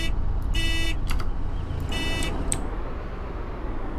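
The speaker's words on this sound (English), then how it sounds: "You can honk the horn too with the left mouse click." In the video game DayZ, a car horn honks in two short blasts over a steady engine rumble, with a brief chirp near the end, fairly loud and without talk.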